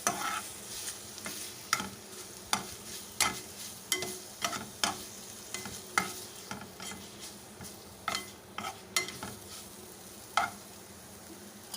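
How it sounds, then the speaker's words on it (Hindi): Spiced chicken filling mixed with roasted ground cumin and black pepper, a steady series of sharp spoon knocks against the pan roughly every second over a faint sizzle, close and fairly quiet with no talking. "ये डाल देंगे हम इसके अंदर और इसको अच्छी तरह से मिक्स कर लेंगे।"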